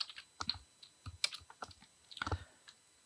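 Fingers tapping on a computer keyboard while entering code in a console, a short burst of crisp, irregular key clicks at close range, the last keystroke a little heavier.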